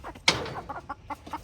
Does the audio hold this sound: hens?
yes